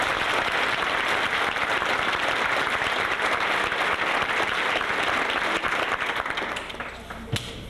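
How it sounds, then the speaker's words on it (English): An audience gives a round of applause to the judges of a student speech contest, a loud, sustained patter of many hands clapping that eases off in the last second with a single sharp knock. "We want to give you another round of applause."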